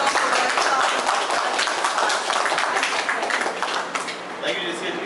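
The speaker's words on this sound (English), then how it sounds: "please give us a round of applause to such a versatile and humble person." Audience applause at a JCI Nagpur Doctor's Day felicitation event, a dense, steady wash of crowd clapping that fills the whole stretch and thins slightly toward the end.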